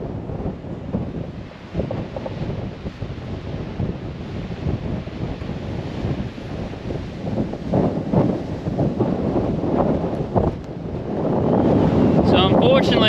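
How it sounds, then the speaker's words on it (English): Strong coastal wind at Francois Peron National Park, Western Australia, buffets the microphone with a constant roaring rumble, gusting harder toward the end. "Shame it's so windy."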